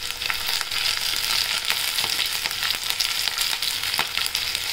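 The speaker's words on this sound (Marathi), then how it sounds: "कांदा असा आपण एकदम लालसर असं होईस्तोपर्यंत करून तेलात परतून घेऊया" Onions frying in oil in a pan for a spicy red pumpkin bhaji masala, giving a steady close bright sizzle with scattered crackles and pops and no talking throughout.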